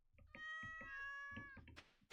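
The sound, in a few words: pet cat meowing in the video game Stardew Valley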